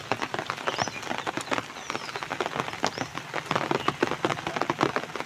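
Night rain falls steadily in a village where water has pooled outside, with dense, close patter and irregular drips striking surfaces, heard alone without voices.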